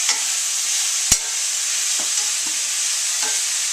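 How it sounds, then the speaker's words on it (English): Fajita vegetables sautéing in a pan over medium-high heat, a loud continuous close sizzle with a sharp utensil tap and a few soft stirring scrapes. "we're going to saute this off for about 5 minutes, or until it starts to get translucent"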